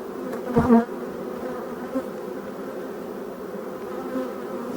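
Honeybees at a three-month-old hive, a steady close buzzing drone with one louder bee passing near early on, other insects humming softly around it.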